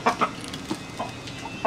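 A flock of chickens and chicks clucks in a series of short, sharp calls spaced irregularly, close and fairly loud, with no voices over them.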